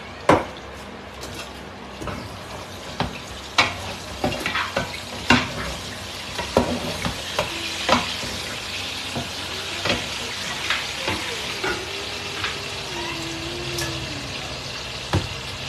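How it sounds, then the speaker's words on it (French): Vegetables frying in olive oil for a sauce in a home kitchen, a soft steady sizzle broken by frequent sharp clinks and scrapes of stirring against the pan. "j'utilise l'huile d'olive pour faire la sauce de mes légumes"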